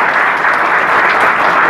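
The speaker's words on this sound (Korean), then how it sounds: "박수로 맞아주시기 바랍니다." Steady, close applause from the audience at the opening ceremony of an art fair in a hotel hall in Incheon, dense clapping throughout the short burst.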